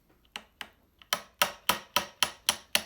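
A small ball peen hammer strikes a socket to drive the shaft out of a Victor Victrola VV 400 four-spring, two-barrel gramophone motor: a few light taps, then a steady run of sharper, louder metallic blows.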